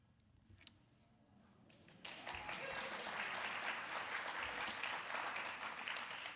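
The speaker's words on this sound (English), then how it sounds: "Actual applause for this." Audience applause at a book launch, starting softly and swelling at about two seconds into dense, sustained clapping from a room full of listeners.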